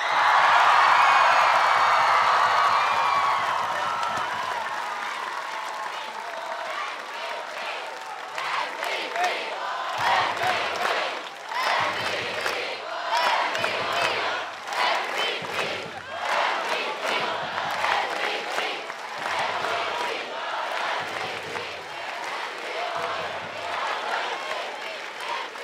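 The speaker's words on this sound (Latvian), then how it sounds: "skaļiem aplausiem! Artur Žagars!" Large outdoor crowd at the Freedom Monument in Riga applauding and cheering for basketball player Artur Žagars, a loud swell at first that settles into steady clapping with rhythmic bursts, like chanting, through the rest.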